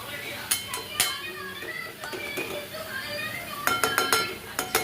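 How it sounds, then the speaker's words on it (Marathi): A lid set onto a cooking pan over a dried bombil dish with onion, tomato and spices, a few close metallic clinks and clatters while a voice talks over them. "आता याच्यावरती आपल्याला झाकण ठेवून द्यायचं"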